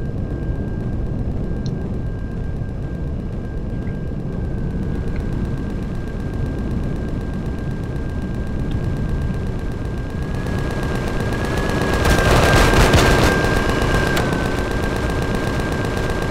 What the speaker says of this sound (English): What the hell's firing around here?